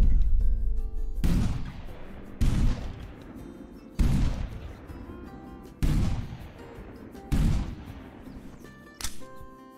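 Beretta shotgun blasts at geese in the hunting game Hunting Simulator 2: five loud, sharp booms spaced about every one and a half seconds, each with a long echoing decay across open terrain, and a fainter sixth shot at the end.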